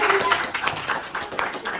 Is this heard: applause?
yes